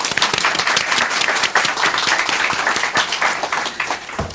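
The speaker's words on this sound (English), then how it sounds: "Let's give them a round of applause." Studio audience at a live historical-society radio show gives a round of applause for guests Mr. and Mrs. Ralph Chantry, steady dense clapping filling the room for several seconds, close and loud.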